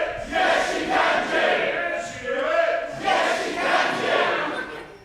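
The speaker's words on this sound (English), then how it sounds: "This crowd willing Kanji on." A crowd at a Greco-Roman wrestling championship cheers and roars in swelling waves, loud and continuous, urging on a wrestler.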